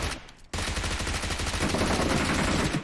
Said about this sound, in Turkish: Abi sıkıyorlar.